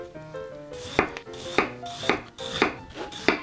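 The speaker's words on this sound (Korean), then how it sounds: "마찬가지로 채 썰어서 배 한 반 개 정도만 사용을 할게요" A knife julienning a peeled pear on a cutting board, a steady series of about eight sharp, close chops falling in an even rhythm over a faint tonal background.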